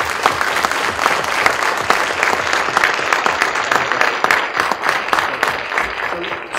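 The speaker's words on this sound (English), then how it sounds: "How about a round of applause?" Audience applause after a conference talk on planetary defense against long-period comets, a sustained dense burst of many hands clapping close and loud, fading slightly near the end.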